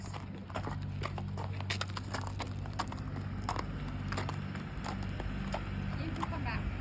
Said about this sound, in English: if you actually want to take your horse for a walk